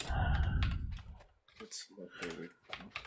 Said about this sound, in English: Were you actively typing in the chat while on the panel